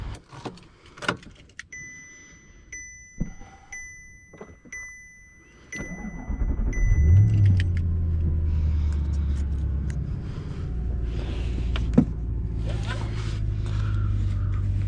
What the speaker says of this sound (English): we'll get in the car and we'll show you a quick startup and then drive.